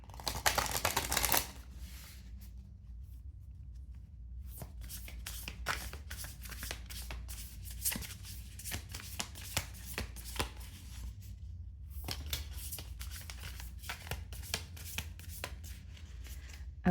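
Tarot cards being shuffled by hand close up: a dense riffle at the start, then a long run of soft irregular card slaps and flicks, quiet and alone.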